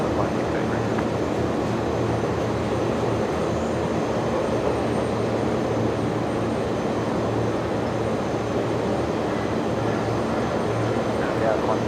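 An Airbus A330 at Brisbane Airport produces a steady broadband jet roar, continuous and fairly loud, while voices talk over it.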